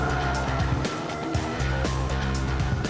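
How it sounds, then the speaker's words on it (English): A car on the move during a road test drive, its engine droning steadily and loudly with shifting revs and some tyre noise throughout, no talking. "So I decided to take Ronnie for a spin to see what he thought"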